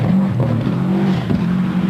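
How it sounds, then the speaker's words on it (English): Colin McRae's 555 Subaru Impreza rally car sweeps down a hill toward a corner at the 1994 Rally of New Zealand, a loud, steady engine roar with shifting revs that fills the whole stretch without any voices. "here he comes, Colin McRae in the 555 Subaru Impreza, on his way down the hill"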